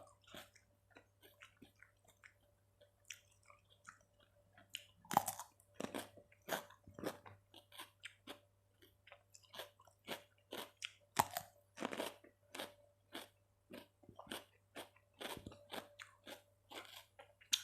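Someone eating a crunchy spicy Thai squid salad, with close, loud crisp bites and chewing crunches repeating in irregular bursts over a quiet background, with no talk.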